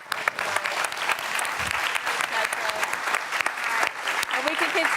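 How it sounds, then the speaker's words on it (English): A crowd at a connected-healthcare panel talk applauds the panelists with steady, fairly loud clapping that continues throughout, sharp individual claps standing out, and faint voices emerging near the end. "Let's give our panelists a round of applause."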